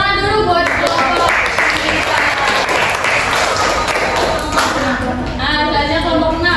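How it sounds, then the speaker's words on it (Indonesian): Classroom applause for a student group, dense continuous clapping from many hands across the room, loud and steady, with voices and chatter mixed underneath and a teacher's voice near the start and end. "Tepuk tangan dulu buat kelompok"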